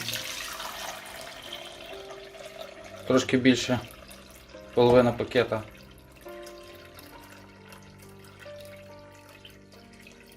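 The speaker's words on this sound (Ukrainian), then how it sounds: "вливаємо водою" Water runs into a pot in two short pours, over a bag of sunflower seeds and cornmeal for fishing bait, with a person talking before and between them.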